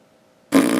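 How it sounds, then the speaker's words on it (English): A single loud, close fart bursts out abruptly after near silence and holds as a short buzzy blast to the end. "That was me what set off the fart"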